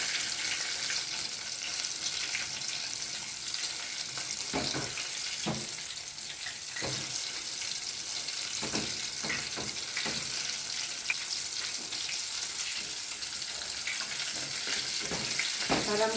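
Chicken pieces fry in hot oil with a steady, even sizzle and crackle throughout, with occasional soft knocks of stirring.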